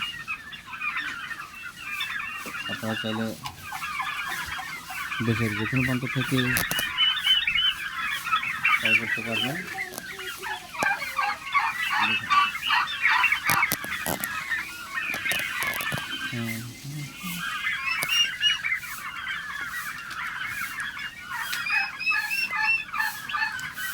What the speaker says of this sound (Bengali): বিশেষ করে এখানে বিভিন্ন কালারিং টার্কি রয়েছে